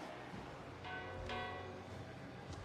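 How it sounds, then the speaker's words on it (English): A demon rings a church bell in Total War: Warhammer, with two quiet, ringing strikes rising out of a low, busy battle ambience. "He's ringing the bell."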